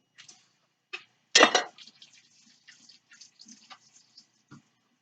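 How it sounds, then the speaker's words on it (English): Hands being washed at a kitchen sink with Dawn dish soap, a brief splash of running water amid scattered drips and small clinks, fairly quiet and close. "wash my hands."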